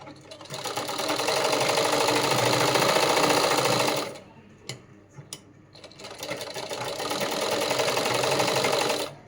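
A sewing machine stitches around a princess-cut garment, running in a loud, close, steady whir for about four seconds, pausing with a few clicks, then starting up again.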